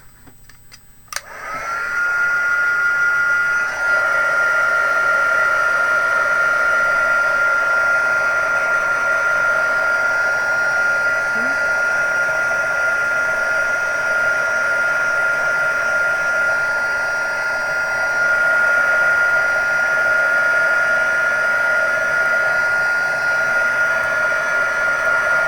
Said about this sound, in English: I'm going to give that a wee blast with the heat gun to try and dry it off quicker